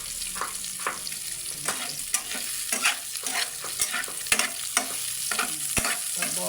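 Cooking oil sizzles steadily in a pan while a utensil stirs and scrapes in irregular strokes, close and moderately loud, with no talking.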